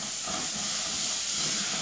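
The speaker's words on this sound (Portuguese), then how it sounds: "Vou colocar a cebola e vou deixar dar uma refogadinha para colocar a cenoura." Onion sizzling in a hot pan for a quick sauté before carrots go in, a steady bright hiss that holds evenly throughout, close by with no talking.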